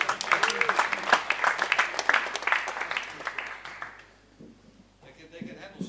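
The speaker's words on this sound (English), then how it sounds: "So, applause for the bass player." An audience claps and cheers for a bass player at a bass and drum concert for a few seconds, fading out midway, with voices mixed into the noise before it quiets.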